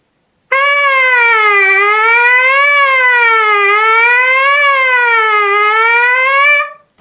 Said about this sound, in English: a great exercise is to do something called sirens